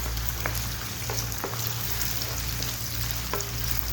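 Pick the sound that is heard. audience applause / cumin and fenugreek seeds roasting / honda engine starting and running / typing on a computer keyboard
cumin and fenugreek seeds roasting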